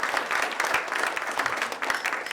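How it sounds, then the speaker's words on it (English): An indoor audience at a talk on the history of Beverly's Jewish community claps for two presenters, a short burst of dense, steady applause heard up close. "Please, one more clap for Paul and Ellen."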